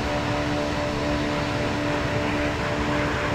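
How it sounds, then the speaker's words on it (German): Airbus A320 CFM engines roar in the X-Plane 11 flight simulator, a loud, steady broadband rumble with a faint tonal whine, continuous throughout with no talking. "das gefällt mir eben an diesem Soundpack hier, das Röhren von der CFM,"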